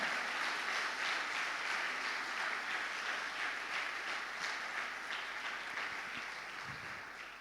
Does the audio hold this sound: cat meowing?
no